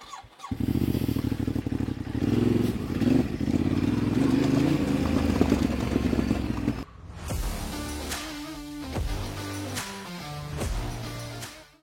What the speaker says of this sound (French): Je vais pouvoir démarrer la moto.